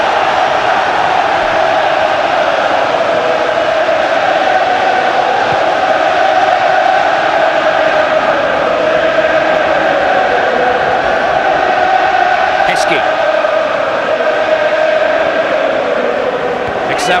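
Steady roar of a large football stadium crowd at a Liverpool vs Roma Champions League match in 2001-02, a constant murmuring drone under a commentator's voice.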